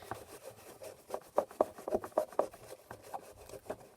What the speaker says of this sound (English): So just rub that in real nice.